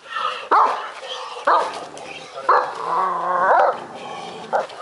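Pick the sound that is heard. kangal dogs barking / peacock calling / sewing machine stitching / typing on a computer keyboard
kangal dogs barking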